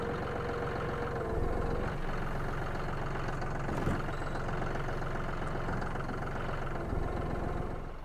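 A farm tractor engine idles nearby, a steady low rumbling drone that holds even and unbroken throughout, with no talking.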